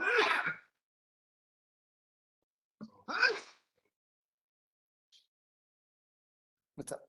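One short, sharp sneeze bursts out in a quiet room, followed after a pause by another brief vocal burst, a faint click and a last quick sound, with near silence in between.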